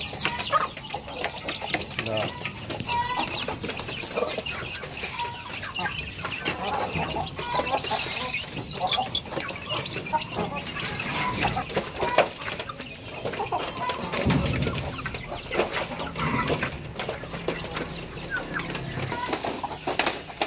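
Chickens cluck and mutter steadily while feeding on vegetables, with a continuous busy flock texture throughout and someone talking over them.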